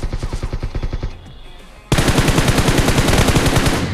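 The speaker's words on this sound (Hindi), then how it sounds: "भाई साहब अपने पे फायर करने लगते हैं" Rapid automatic gunfire in the battle royale game BGMI, loud and close, in rhythmic bursts that pause for under a second before a heavier, denser stream of shots resumes.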